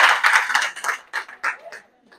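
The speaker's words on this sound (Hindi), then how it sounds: "इतनी कमजोर तालियां क्यों बज रही" Sparse, weak clapping from an audience, a few uneven scattered claps fading out over a couple of seconds, with someone talking over them.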